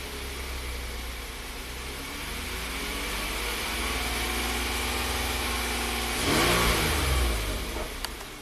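Hyundai Santa Fe engine running close by, building steadily in pitch and then revving up sharply before easing back, loud and continuous with no talking.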